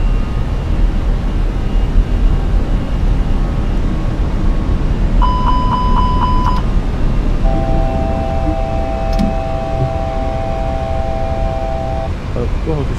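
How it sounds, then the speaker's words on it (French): An airliner goes around at full power, its engines a broad, steady roar heard from the cockpit under near-constant talk, with short cockpit tones chiming partway through. "Le pilote remet les gaz, pleine puissance"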